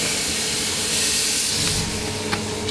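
Duck aiguillette and pineapple skewers sizzle over direct embers on a hot barbecue, a steady close hiss that holds throughout, with a couple of brief sharp crackles near the end.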